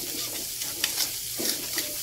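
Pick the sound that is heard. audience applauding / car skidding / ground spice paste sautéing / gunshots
ground spice paste sautéing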